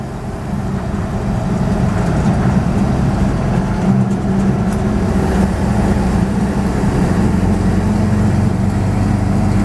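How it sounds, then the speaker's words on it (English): A Napco truck's original 235 straight six-cylinder engine idles steadily with a low, even rumble, close and continuous, with no talking. "You hear that straight 6-cylinder."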